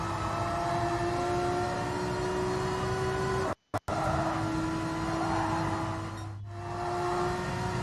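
Sustained engine whine of race cars in Gran Turismo Sport during an overtake, a steady high tone holding through the clip, with a brief dropout and then a swell as another car passes close by.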